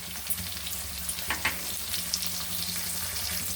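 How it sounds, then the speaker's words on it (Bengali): Potatoes frying in a pan for a thin curry, a steady close sizzle with a few soft stirring scrapes partway through. "আলুগুলো ভালো করে ভেজে নেব"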